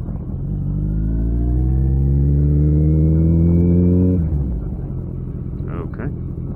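Loud Kawasaki ZX14R motorcycle engine while riding, a steady rising drone that climbs in pitch for about four seconds, then drops off to a lower rumble of wind and road noise.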